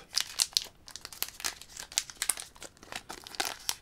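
A Pokémon card booster pack wrapper torn and crinkled open up close, in a run of short, uneven crackling bursts with brief pauses, and no voices.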